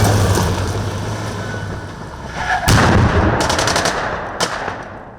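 Gunfire during a Rosgvardia training exercise near Syktyvkar, Komi, with bursts of shots and sharp cracks rising over a steady outdoor rumble, several closely spaced reports toward the end.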